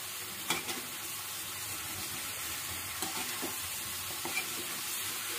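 Chicken korma frying and being stirred in a pan, a continuous close sizzle with a few soft scrapes and clinks of stirring and no voices.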